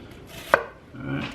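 A single sharp knife stroke cuts through an onion on a cutting board, one crisp chop in a quiet kitchen followed by faint handling sounds.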